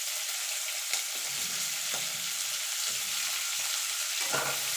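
Sliced onion hits hot oil in a pan while egg chowmein is being made, giving a steady bright sizzle with a few soft stirring scrapes and no voices.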